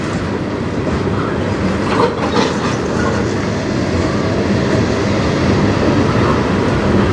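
A freight train rolls past on the Strathroy Subdivision, a loud, continuous rumble of wheels on rail with faint clickety-clack and occasional squeals, steady and close throughout.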